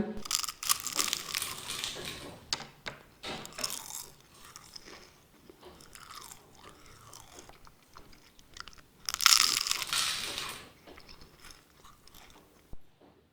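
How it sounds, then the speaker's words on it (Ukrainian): Someone bites into triangular baklava with a crisp, flaky top layer: dry crunching and crackling chews up close, with a second loud burst of crunching later. "Тут, мені здається, було найбільше хрускоту тому що верхня цей шар дуже такий хрусткий"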